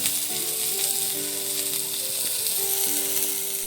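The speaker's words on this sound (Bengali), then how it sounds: "এবার ওই একই কড়াইতে সামান্য তেল দিয়ে দিতে হবে কুচনো পেঁয়াজ আর চেরা কাঁচা লঙ্কা।" Chopped onion and slit green chillies sizzle steadily in a little hot oil in a kadai, a dense continuous frying hiss held at an even, fairly loud level throughout.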